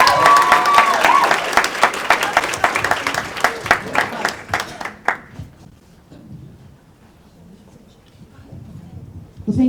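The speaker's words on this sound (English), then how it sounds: "Let's give them a round of applause" A room full of people at a political rally gives a dense round of applause that thins out about halfway through, leaving scattered claps and quiet murmuring.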